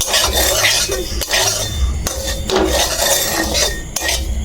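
Semolina being roasted in a pan gets stirred with a metal spoon, giving repeated scraping and clinking against the cookware in an uneven rhythm, close and fairly loud.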